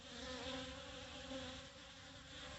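Honeybees buzz around an open baby-pool feeder, a faint, steady drone of many wings in the background, with no talking.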